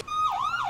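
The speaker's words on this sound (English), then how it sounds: "Just seeing those sirens come into view." A brief electronic police siren in Grand Theft Auto V wails, its pitch sweeping down and up in quick warbles, heard alone without voices.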